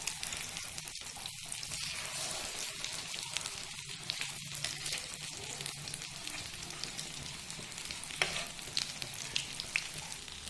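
Aloo tikki potato patties cook in a pan, giving a soft, even sizzle and crackle with small spatters throughout, close and fairly quiet, no voices.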